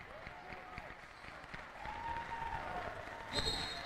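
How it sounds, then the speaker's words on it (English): Crowd cheering and clapping fills a gym during a women's college basketball game between Salve Regina and Salem State, a steady moderate roar that swells toward the end, with a sneaker squeak or whistle-like tone near the close. "Crowd's going wild right now"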